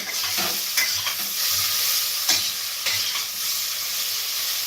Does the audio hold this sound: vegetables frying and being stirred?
yes